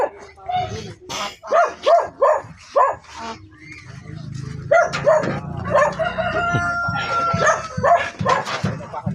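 Farm birds crow and cluck near a dog barking in a steady series, with more calls overlapping toward the end; chickens, geese and goats are nearby.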